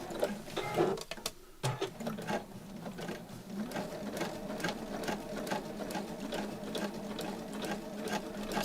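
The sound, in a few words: sewing machine stitching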